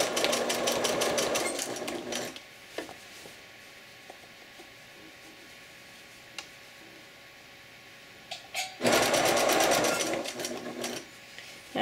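Short bursts of sewing machine stitching on ruffles for a bib apron run at the start and again near the end, with quiet handling and small clicks between the runs.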